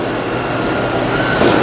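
A New York subway train rumbles through Grand Army Plaza station on the 2 and 3 line, a loud, steady roar of rail noise that swells slightly near the end, with no talk.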